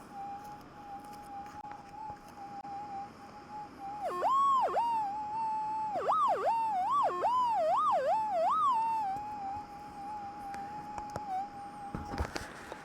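A gold-prospecting metal detector on a hillside hums a steady tone that breaks into warbling, wavering squeals as it passes over an iron nail, then settles back to the hum; close, with no voices.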